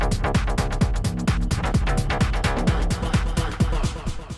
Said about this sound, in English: First of all, a half beat sounds like this.